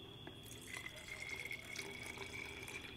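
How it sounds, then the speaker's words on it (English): Hardener being poured carefully into a Raptor liner container, a steady thin liquid trickle with a faint high whine running alongside, close and continuous throughout. "we're going to pour this carefully into the Raptor liner container"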